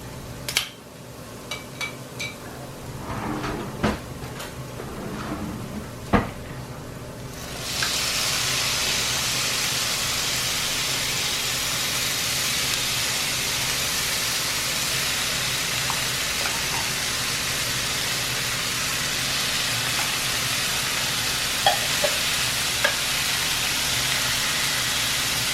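Corned beef added to softened potato and carrot frying in a pan, a few clinks and taps at first, then a steady loud sizzle that hisses on alone.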